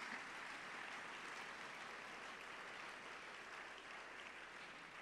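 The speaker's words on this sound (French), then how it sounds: "Est-ce qu'on peut encore acclamer le Seigneur?" A church congregation applauds, dense, even clapping filling the room for several seconds at a steady moderate level, with no voices standing out.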